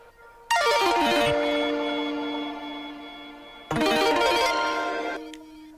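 Electronic synth flutter hits in a track: two shimmering bursts with rapid descending ripples that ring out and slowly fade, loud and without speech.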